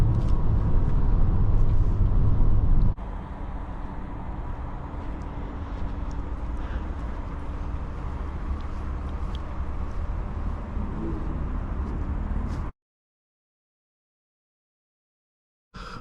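A 2005 BMW 645Ci coupe cornering on the road, its engine and tyre rumble steady and close, with a sharp drop in level partway through and a stretch of near silence near the end.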